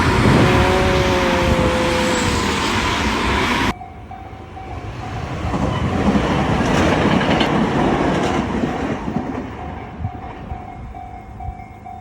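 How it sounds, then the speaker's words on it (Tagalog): A train rolls past on a December stroll, a loud, steady broadband rumble and rush that abruptly drops at about four seconds, then continues as a dense, slightly softer roar with a faint tonal hum through the rest. "Ay, train na."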